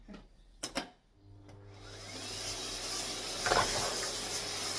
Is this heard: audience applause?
no